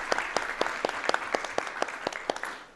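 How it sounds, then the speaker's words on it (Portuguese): An audience applauds at an academic panel session on democratic and inclusive teaching, a steady patter of clapping with distinct claps standing out, moderately loud and alone without talk. "Um aplauso para esses que foram."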